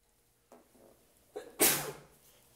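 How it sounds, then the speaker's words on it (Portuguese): A single loud sneeze, a soft breathy intake followed by a sharp explosive burst that tails off, close to the listener with no talking. "Vou espirrar."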